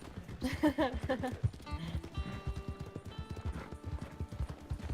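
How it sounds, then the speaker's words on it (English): Horse hooves clip-clopping at a steady walk in the Red Dead Redemption 2 video game, a close rhythmic clatter with a brief whinny early on and game music tones later. "So I'm on an all black horse, all black outfit with a gun out."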